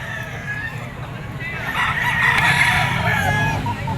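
Gamefowl rooster, a dark-legged Gilmore bull stag, crowing once loud and close, a rising then drawn-out cock-a-doodle call lasting about two seconds over low background rumble.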